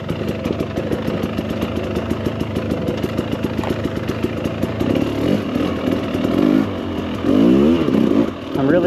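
A 2024 Husqvarna TE300 Pro two-stroke dirt bike engine runs steadily up close, its rough buzzing drone rising into several louder revving surges toward the end.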